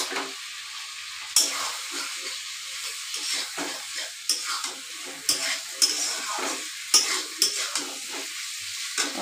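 Fried potatoes being stirred and sautéed with spices for aloo dum, loud close sizzling punctuated by repeated rhythmic scrapes and clatters of a spatula against the pan.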